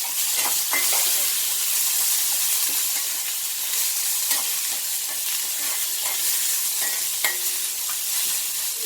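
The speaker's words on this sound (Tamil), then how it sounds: "அதுக்கப்புறம் காஞ்ச மிளகாய், அதுக்கப்புறம் வெங்காயம், கருவேப்பிலை, கொத்தமல்லி எல்லாத்தையும் ஒன்றா போட்டுக்கலாம்" Dried chillies, onion, curry leaves and coriander fry in hot oil with a loud, continuous bright sizzle, dotted with occasional pops and spatters, close up and without talk.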